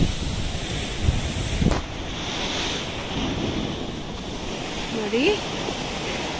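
Waves surge and crash against a rocky shore in steady, roaring wash with heavy wind buffeting the microphone, a brief spoken word heard over the surf.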